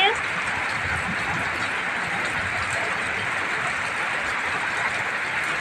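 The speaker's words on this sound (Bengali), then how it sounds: "দেখো কিভাবে বৃষ্টি হচ্ছে" Heavy rain pours down beside a house near a pond, a dense, loud, unbroken hiss of drops that stays constant from start to finish.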